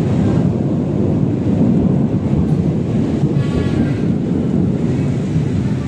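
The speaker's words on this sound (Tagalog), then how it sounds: "lakas ng ulan dito ngayon" A heavy downpour near Jones Bridge roars as a loud, unbroken broadband wash, with wind buffeting the microphone and no voices over it.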